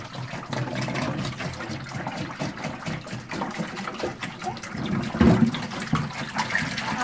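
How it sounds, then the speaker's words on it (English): Water emptied from the tank of a Candy Grand Vita tumble dryer is poured into a sink, making a continuous splashing, gurgling stream with a brief louder gush near the end. "We'll just pour it in the sink."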